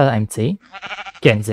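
Sheep bleating in a video game, a couple of short bleats heard up close, with a person speaking over and around them.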